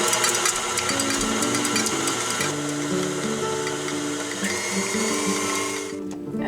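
A kitchen mixer blends cream cheese, lemon juice and maple syrup with a loud, steady motor whir and rattling. It runs continuously and stops abruptly near the end, with no talking.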